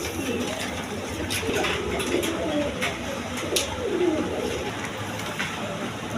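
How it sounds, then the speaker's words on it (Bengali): A pair of red Bombay pigeons on a pigeon farm coo steadily in low, rolling phrases close by, set against constant loft background noise with scattered sharp clicks. "এইখানে এক পেয়ার রেড কালার বোম্বাই কবুতর আছে"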